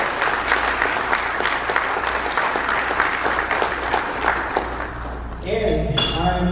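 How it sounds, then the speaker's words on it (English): Applause from the audience at an awards ceremony honoring influential Asian Americans fills the room, a dense, steady patter of clapping that fades near the end as a few glassy clinks ring out. "Please give them another round of applause."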